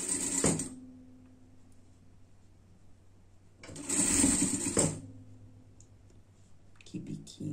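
Overlock sewing machine finishing fabric edges while sewing a costume, in two loud running bursts near the start and again midway, separated by quieter handling sounds.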